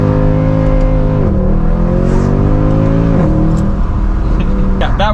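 A 2012 Mercedes C63 AMG with a 7-speed transmission accelerates hard onto a highway. The engine roars loudly and climbs in pitch, with two quick upshifts breaking the rising note.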